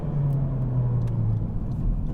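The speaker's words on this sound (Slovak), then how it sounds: "A teraz zase aktívny medziplyn." A Honda Civic Type R engine drones inside the car during an automatic rev-matched downshift, a steady close rumble with a falling engine tone.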